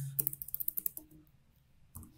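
Fingers type on a computer keyboard, a quick close run of about a dozen light key clicks in a steady rhythm, then a pause and a few more keystrokes, with no talking.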